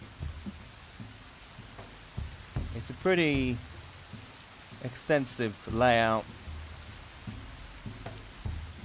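Steady rain hisses over a large player-built base in the video game The Forest, continuing under a man's speech.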